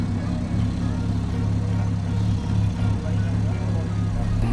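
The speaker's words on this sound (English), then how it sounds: "It's just backing up, so let's listen to this rumble." A Porsche reversing at a cars and coffee meet gives a steady low engine rumble, close and continuous, with faint background noise from the gathering.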